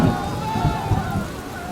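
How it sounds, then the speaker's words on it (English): Steady rain pouring down with low rumbling thunder beneath it, a dense, continuous storm wash running throughout without any clear break. "the storm clouds were black and the rain came down fast"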